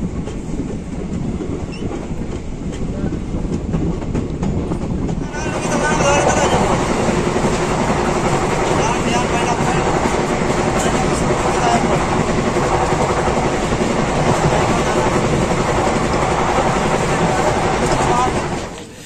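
A passenger train pulls out of Ara Junction and rolls steadily, with a loud continuous rumble and rhythmic wheel clatter that grows after the first few seconds.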